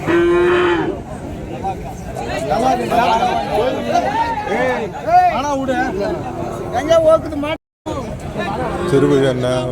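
Cattle at a large village cattle market in Madrapalli moo loudly and repeatedly near the listener, over a steady babble of crowd chatter and people talking.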